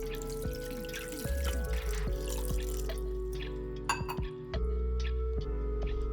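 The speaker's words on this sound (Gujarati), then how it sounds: "તેમાં આંબલી ગોળ ને એક ગ્લાસ જેટલું પાણી નાખીશું" A glass of water is poured into a pot holding tamarind and jaggery for a sweet chutney, making faint splashing and dripping with small clinks over a steady background hum.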